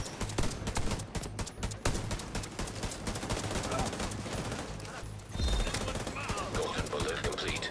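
Turret gunfire in The Division 2, rapid bursts of shots rattling on and off for several seconds in a dense, loud game mix, with a heavier thump near the end.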